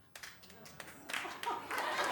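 A studio audience at a talk-show taping claps in scattered, building bursts, sparse at first and then thickening into fuller applause mixed with some laughter.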